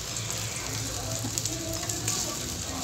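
Bombil fish shallow-frying in a pan with a crisp golden coating, a steady close sizzle and spatter with a couple of light knocks as the pieces are turned.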